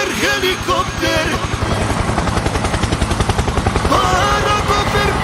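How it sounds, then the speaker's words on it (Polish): A helicopter's rotor throbs in a fast, steady rhythm of loud, close chopping pulses over a dense roar that runs the whole time. "Helikopter, helikopter!"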